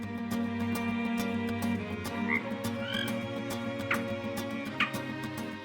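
A frog croaks steadily in the background over a constant low hum, with a few brief squeaky chirps standing out near the end.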